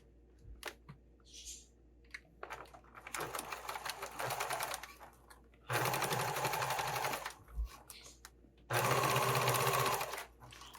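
A domestic sewing machine runs along the seam of a Slimline Sling bag at normal seam allowance, starting with brief quiet clicks and then three sustained, fairly loud stitching runs separated by pauses.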